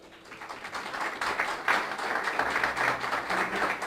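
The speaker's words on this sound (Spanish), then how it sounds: "¿Cuánto le pueden dar un aplauso al Señor?" A church congregation breaks into applause during a sermon, a dense, swelling patter of many hands that builds over the first seconds and holds steady at moderate distance, with faint murmuring underneath.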